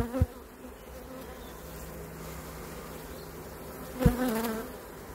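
Honeybees buzz steadily around an opened hive during an inspection, a continuous hum close by with a couple of brief louder knocks or handling sounds near the start and around the four-second mark.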